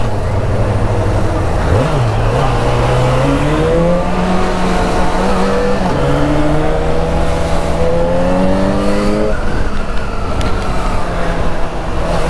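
A Yamaha XJ6 motorcycle engine revs continuously, its pitch climbing and falling in repeated throttle sweeps with a harsh, rumbling exhaust tone.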